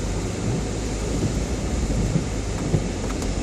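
Steady rain falling during a drive on a rainy day through Namhansanseong, a dense continuous hiss with a low road rumble beneath, constant and fairly loud throughout.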